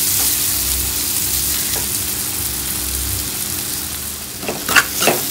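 Tomatoes frying until soft in a pan, a steady close sizzle with low bubbling, then a few louder stirring clanks near the end.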